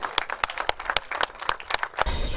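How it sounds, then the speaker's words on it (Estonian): Scattered applause from a modest crowd at a motocross awards ceremony, cheering the podium finishers of the 65cc class in a 2016 father-and-son round of a cup series. Irregular, fairly close claps with no talk over them. "Aplaus ka 65. masinaklassi 3 kiiremale, kes on poodiumil täna Mikk Kallion, Sander Saadi ja Otto Mattias R"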